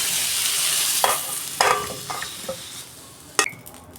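Fried snake gourd (chichinga) is stirred and lifted from a hot pan. A soft, steady sizzle runs under a few sharp metal scrapes and clinks of a spatula against the pan, with no talk.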